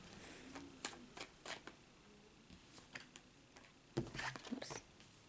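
Tarot cards are shuffled close up in a quiet room with crisp riffling snaps and slides that come in several irregular bursts, louder toward the end.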